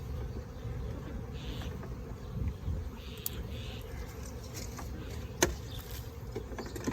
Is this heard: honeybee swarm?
yes